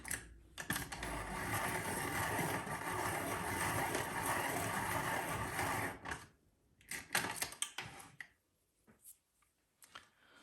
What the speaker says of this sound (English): I've worn down quite a bit of my grass green. I'm going to sharpen that real quick.